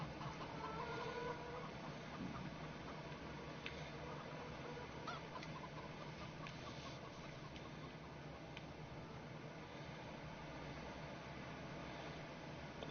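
Chickens clucking in the video game Farming Simulator 17, a steady bed of fowl chatter with scattered short calls under continuous ambient noise, no talking.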